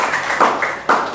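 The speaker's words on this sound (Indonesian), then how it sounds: "tepuk tangan buat" Students in a classroom clap their hands in a few short, uneven bursts, close and fairly loud, with brief pauses between the claps.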